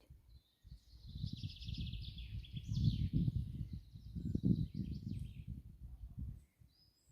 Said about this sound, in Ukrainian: Птахи співають.